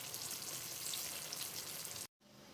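Cheese sticks with jackfruit frying in hot oil: a steady, dense sizzle and crackle up close, continuous for about two seconds before a brief cut, then resuming.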